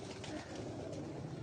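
Teddy pigeons coo on a rooftop loft in a steady, low, burbling murmur, fairly close and continuous through the short stretch.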